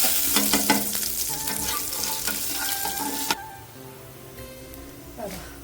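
Whole pepper, fennel, cumin, cardamom, cloves and a bit of curry leaf roasting in a pan: dry crackles and clinks of stirring for about three seconds, then a quieter lull with a final scrape.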